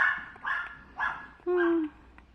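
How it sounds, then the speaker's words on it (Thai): A Chihuahua gives a series of about four sharp, close barks in quick succession, the last one drawn out into a longer yelp. "พ่อผมไปเห่าอะไรไม่รู้ครับ"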